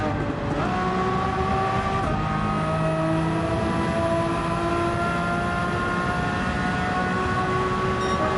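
A Jaguar race car engine in Gran Turismo 7 roars steadily, pitch climbing after an early gear change and holding high at speed, loud and constant throughout with no voices.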